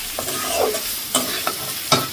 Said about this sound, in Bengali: মশলাটা এখন কষিয়ে নিচ্ছি